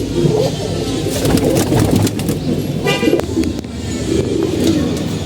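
Pigeons coo in low, throaty murmurs amid a busy background, with a few sharper calls and clicks scattered through.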